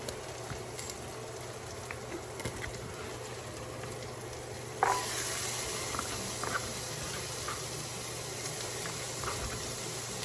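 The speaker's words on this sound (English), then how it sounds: "Get my carrots all chopped up and get them into my skillet." Chopped carrots sizzle steadily in a hot skillet, a continuous soft hiss and crackle that jumps louder midway as more hits the pan, with no talking.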